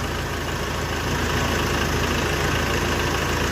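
A Dongfeng 404 tractor engine runs steadily nearby, a constant low, rough idle-like drone that grows slightly louder after the first second, with no voices.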